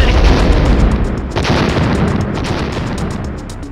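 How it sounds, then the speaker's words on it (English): Combined mine and bomb explosion in the 1998 Atlus video game Trap Gunner: a loud, dense, rumbling blast that sustains its roar for several seconds, with bursts of crackle layered through it before slowly tapering off. "This is a combination of a mine and bomb explosion."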